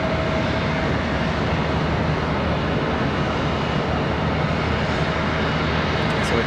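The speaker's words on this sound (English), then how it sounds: "A350-1000 over the Dreamliner" An Airbus A350-1000 jet at Charlotte Douglas International, its engines a constant, dense roar at steady loudness for the whole stretch, with no voices over it.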